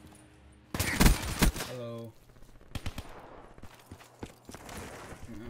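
Rapid bursts of automatic gunfire in a shooter video game ring out loud and close for about a second, then scattered single shots and short volleys follow at lower level, with a brief spoken word mixed in.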